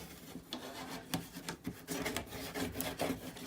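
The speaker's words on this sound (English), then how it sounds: "Just rub it all down really nicely." A bone folder rubs firmly over folded paper on a tissue box craft project, making a continuous close scraping rasp with quick back-and-forth strokes.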